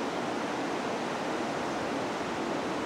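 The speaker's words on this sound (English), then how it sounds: "Waterfall" A small waterfall of about three feet pours into a Disney park canal, making a steady, dense, full rushing roar that fills the whole stretch evenly, with no voices.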